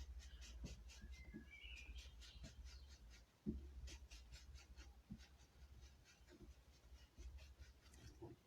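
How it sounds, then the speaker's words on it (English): Birds chirp and twitter in short scattered bursts in the background, fairly faint, with no one talking. "I can hear the other birds twittering in the trees"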